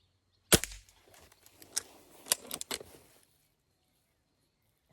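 An IZh Baikal air gun fires one sharp, close crack, followed by a cluster of lighter clicks and snaps from handling the gun before it falls quiet.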